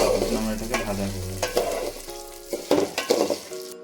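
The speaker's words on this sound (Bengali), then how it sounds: "যতক্ষণ না চালটা আওয়াজ করবে চাল ও ডালে, ততক্ষণ আমরা এটাকে ভাজা করবো।" Rice and lentils fry in hot oil with bay leaves in a pot, sizzling steadily while a spoon stirs through them with scraping clatters, close and fairly loud.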